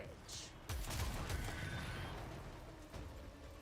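An arc gun fires in Warframe, opening with a sudden loud crack of energy and then a rapid crackling barrage that rumbles on and gradually fades.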